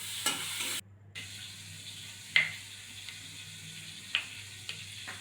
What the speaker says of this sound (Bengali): চিংড়ি ভাজা শুরু হয়ে গেল।